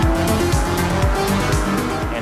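Race car engine roaring loud and close on track at Indianapolis Motor Speedway, revving with repeated rising gear-shift sweeps in a steady run of acceleration, no talk over it.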